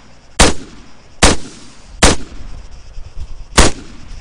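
Four sharp, loud gunshots in Arma 3 ring out at uneven intervals, each a hard crack with a short tail, over a low background rumble typical of video game gunfire.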